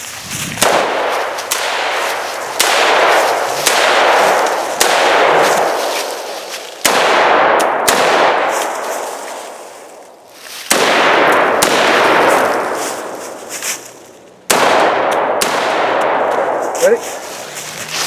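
Loud gunfire from a rifle during shooting drills that mix burpees, up-and-downs and level changes; sharp, close bursts of shots ring out in several groups spaced a few seconds apart, with quiet gaps between them.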